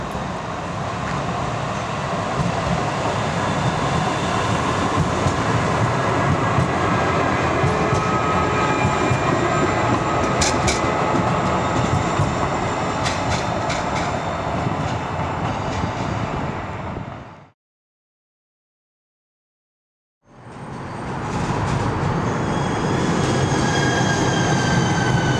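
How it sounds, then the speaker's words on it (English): An eastbound Red Line light-rail train to Portland Airport rumbles loudly and steadily, with brief high wheel squeals, cutting to silence for about three seconds before the rolling noise resumes. "Eastbound Red Line train to Portland Airport."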